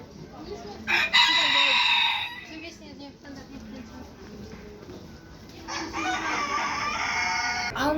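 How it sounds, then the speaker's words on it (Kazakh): Chickens cluck and a rooster crows loudly nearby in two long bursts, with a person talking in between and beneath the calls, on the outskirts of Almaty near Kok-Tobe. "тауықтардың кішкентайын қараса, или осындай кішкентай"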